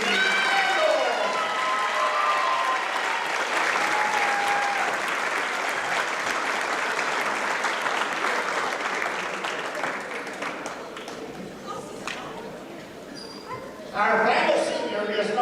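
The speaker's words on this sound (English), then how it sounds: "Big round of applause for Macy." A gym crowd at a girls' high school basketball senior night gives sustained clapping and cheers for a senior player, loud and dense at first, thinning out, then swelling in a short final burst.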